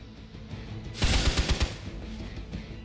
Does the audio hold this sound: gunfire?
yes